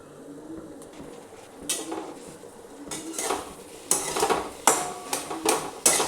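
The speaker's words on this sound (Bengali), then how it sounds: "দেখুন এবারে ঢাকনাটা খুলছি।" A metal lid lifts off a cooking pot of low-oil, spice-free home cooking, with clattering metallic clinks and knocks that grow louder and sharper toward the end.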